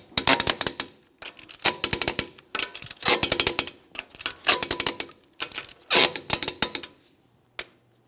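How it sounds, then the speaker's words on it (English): Torque wrench clicking as it tightens lug nuts in a crisscross pattern to 80 foot-pounds on a 2008-2017 Mitsubishi Lancer wheel: close, sharp bursts of ratcheting clicks in repeated clusters with short pauses, ending on a single final click. "We're going to be torquing each of these lug nuts in a crisscross manner to that 80 foot-pounds"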